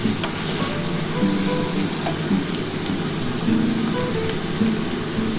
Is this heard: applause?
no